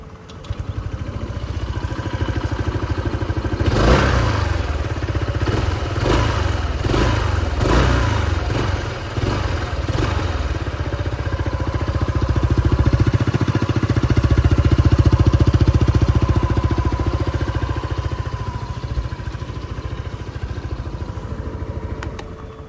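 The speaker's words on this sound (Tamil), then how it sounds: "இப்போ எக்ஸாஸ்ட் கேட்போம்." A Hero Xoom 160 scooter's exhaust runs close by, a steady mid-pitched engine putter with several quick revs early on, then an even idle with a slight swell later, and no talking.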